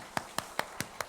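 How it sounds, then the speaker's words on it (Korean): Congregation in a church giving a round of applause, heard as five sharp, evenly spaced claps about a fifth of a second apart, fairly close and with no talk. "우리 박수 한번 하시겠습니다."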